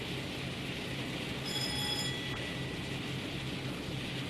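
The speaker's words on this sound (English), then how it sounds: "I have to find a bit of a balance on these noisy trains." A Class 52 diesel locomotive hauls a railtour in a train simulator game from Peterborough toward Doncaster, giving a steady, loud engine drone and rumble with a brief high squeal partway through. No talk.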